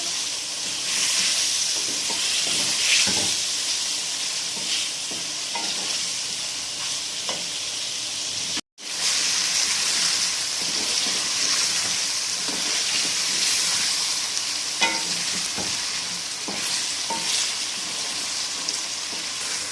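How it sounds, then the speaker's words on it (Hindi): Chicken frying in a pan with ginger-garlic paste for achar gosht, a steady close sizzle with soft scraping stirs throughout and one brief cut midway. "अब हम इसके अंदर 1 चम्मच अदरक लहसुन का पेस्ट ऐड करेंगे और इसको चिकन के साथ भून लेंगे"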